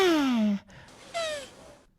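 A beatboxer voices the first step of a human saxophone imitation, a short moaning vocal tone that slides downward, then a fainter second breathy tone, close and alone.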